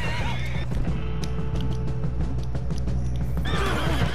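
Horse in Red Dead Redemption 2 neighing loudly at the start and again near the end, with clip-clop hoofbeats and game ambience in between.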